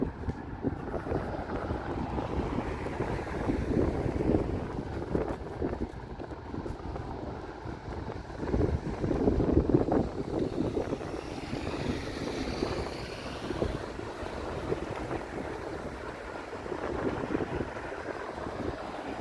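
Wind gusts during a walk through Toronto streets, a steady broadband rush buffeting the microphone, loud and close, swelling and easing for the whole stretch with no talking.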